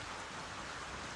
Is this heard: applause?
no